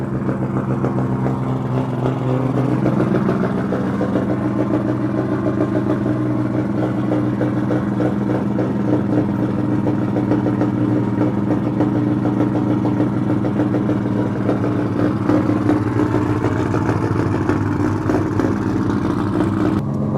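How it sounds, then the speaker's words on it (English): A near 700-horsepower, stock-looking drag car at a Malaysian AE86 gathering idles loudly and steadily with a deep, even engine note nearby, swelling into revs across the twenty seconds. "This is what, a drag car or something"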